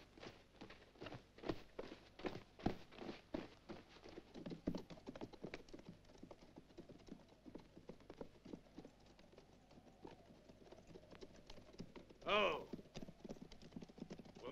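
Horses walk with a steady, faint clip-clop of hooves on the ground in an outdoor Western setting, with a brief louder snort or whinny near the end.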